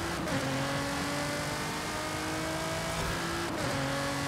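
A Nissan GT-R Nismo accelerating hard down a drag strip in Forza Horizon 5, a loud continuous engine roar climbing through gears with short shift breaks, close and alone.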